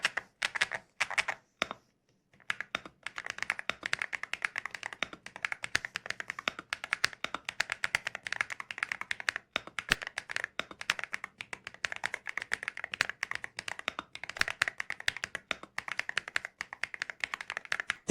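Rapid, steady typing on a keyboard fitted with Alloy Foundry magnetic cross-axis switches and PBT keycaps: dense, crisp keystroke clicks continue close and clear for the whole stretch after a brief pause near the start, with no voices.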